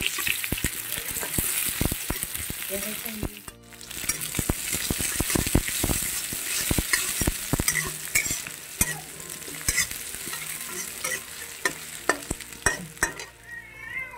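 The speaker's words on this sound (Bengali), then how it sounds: "তো দিয়ে দিলাম এই যে পেঁয়াজ কুচি" Chopped onions drop into a wok of hot oil with dry red chillies for a dhaba-style masoor dal tarka, giving a loud, steady sizzle broken by frequent stirring scrapes and clinks, with no talking.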